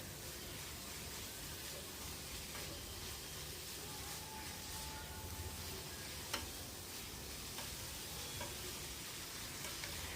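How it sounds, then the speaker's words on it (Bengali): Boiled banana flower is stirred into masala frying in a pan, making a steady, faint sizzle with soft scraping and occasional small clicks throughout. "মশলার সাথে কলার মোচাটা খুব ভালো করে নেড়েচেড়ে মিশিয়ে নিতে হবে"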